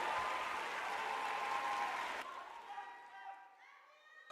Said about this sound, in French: On applaudit quand même encore pour elle, s'il vous plaît.